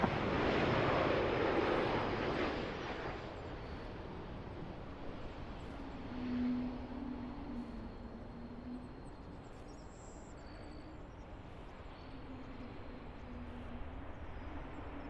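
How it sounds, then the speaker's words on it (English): A Porter Embraer E195 jet lands at Toronto Pearson airport, its engine roar loud at first and then fading into a steady distant whine and rumble with some wind noise, no voices heard. "There comes a Porter E195. You're clear to land 6 right."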